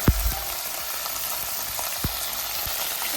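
Tomato and onion sauté in hot oil with ginger, garlic and chilli, giving a steady loud sizzle with a few brief stirring knocks, close and without talk.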